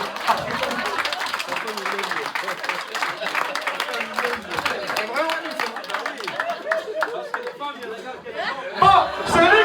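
An audience at a religious teaching session claps amid lively chatter and chuckles, the scattered applause mixing with overlapping voices and a speaker talking throughout.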